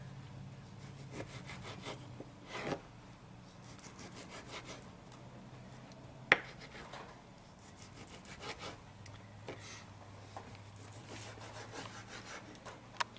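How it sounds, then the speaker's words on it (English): A knife slices food into quarter-inch strips on a cutting board, quiet repeated rasping strokes with a few sharper taps, close by with no talking. "So now I'm going to start cutting it into strips about 1/4 of an inch thick."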